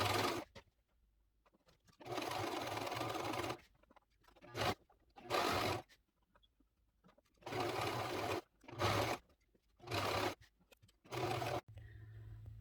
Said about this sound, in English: I'm going to sew these pockets down